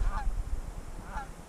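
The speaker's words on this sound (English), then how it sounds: "We have our goose friends flying by." Geese honking as they fly past a Yellowstone lake, two separate honks about a second apart, moderately distant over a steady low outdoor rumble.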